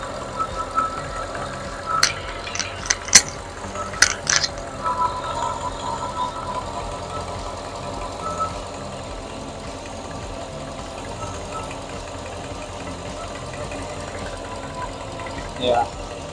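A Mercedes fitted with a Weistec kit, bigger throttle body and no injector tune idles with a steady low rumble, with light clinks early on and quiet talk.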